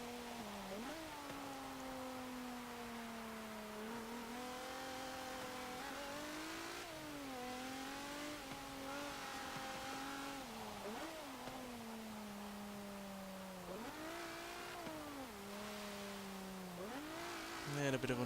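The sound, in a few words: 2014 Volkswagen Golf R car engine accelerating in Forza Motorsport 7 video game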